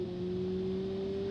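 Exhaust of a four-cylinder turbocharged front-wheel-drive car in the driving game Automation: a steady, even engine drone held at constant pitch, moderately loud and uninterrupted.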